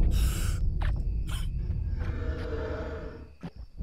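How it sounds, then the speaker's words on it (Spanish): A ghost breathes in the horror game Polterheist: heavy, ragged breaths and gasping snorts over a low rumbling game ambience, with no talking. "Se escucha su respiración también."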